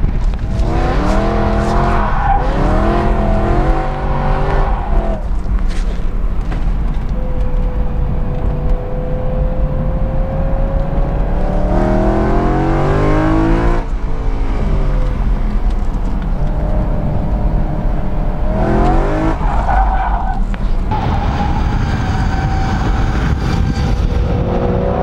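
A BMW E90 M3 on a race track, engine revving up and down through repeated acceleration pulls as the tires squeal and slide, loud and close from inside the car.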